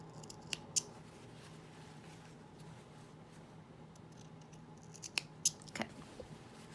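Scissors cut binding on a dress in a few sparse, crisp snips, grouped near the start and again near the end, quiet against a faint room hum.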